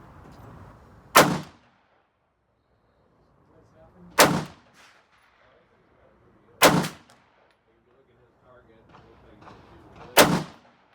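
An AR-15 semi-automatic rifle fires four loud, sharp single shots a few seconds apart, with quiet background sound between them.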